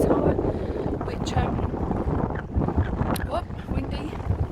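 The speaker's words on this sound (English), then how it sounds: "It's quite windy, but we're on like the highest level." Wind gusting across a high rooftop level beside a tall water tower, a steady broadband roar with buffeting on the microphone throughout, loud and close.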